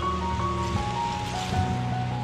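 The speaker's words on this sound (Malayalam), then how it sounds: "ഇപ്പം മഴ കൂടുകയാണ്" Heavy rain pours steadily over a carrot farm at Vattavada hill station near Munnar, a dense, even wash of patter without pause across the short moment.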